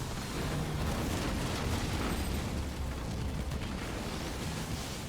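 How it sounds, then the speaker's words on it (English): A mine detonates in the real-time strategy game Halo Wars 2, a muffled rumbling blast spread across a dense, noisy battle din with no clear single crack. "One mine will detonate, but it didn't do all that much actually."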